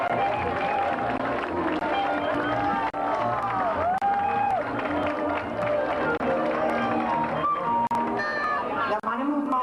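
Crowd noise at a 1996 town festival ceremony in Benigànim, a continuous dense wash of cheering and clapping with babble and shouted voices, loud and sustained throughout.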